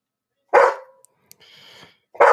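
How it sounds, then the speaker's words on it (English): A dog barks nearby, two loud sharp barks about two seconds apart with a faint whine between them, no talk. "You guys can hear Abby the Break Dog behind me."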